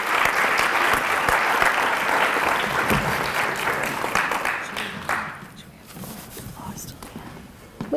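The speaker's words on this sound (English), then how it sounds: "Can we just ask you to hold the applause till the end" An audience at an awards ceremony honoring school nurses breaks into loud, dense applause that fades after about five seconds, giving way to quieter scattered claps and murmuring voices.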